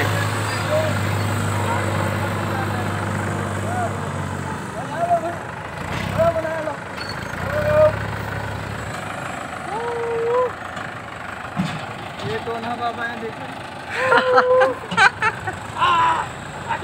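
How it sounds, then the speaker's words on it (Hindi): Tractor engine idles and runs with no driver aboard in Punjab, India, a steady mid-pitched diesel rumble with revving swells, heard under someone talking and other voices. "बिना ड्राइवर के ट्रैक्टर चल रहा है दोस्तों, देख सकते हैं।"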